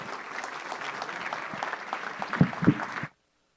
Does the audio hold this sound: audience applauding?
yes